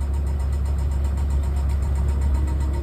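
A car engine runs steadily while driving on a long trip, with the tyres in poor condition, giving a continuous low rumble at a constant level throughout, with no talking.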